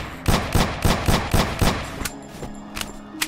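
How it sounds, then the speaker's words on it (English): Gunfire from the player's weapon in the video game Antarctica 88: about eight sharp, evenly spaced shots ring out, then a few sparser, quieter bangs trail off near the end. "I can't drive around in there, so I'm gonna have to use my gun"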